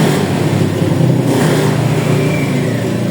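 A Honda Beat scooter engine, just repaired after an error 12 fault, runs up close and loud, with a steady buzzing idle swelling into short revs, alone with no voices.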